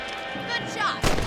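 A single sharp gunshot while hunting rabbits in the video game Red Dead Redemption, cracking loudly near the end after a brief stretch of quieter tonal game ambience.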